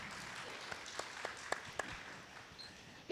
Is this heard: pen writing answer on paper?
no